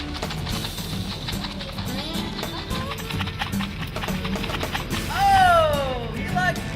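Hooves of Bucky the goat patter in a quick, steady run across the ground, with people chattering and a loud vocal call near the end.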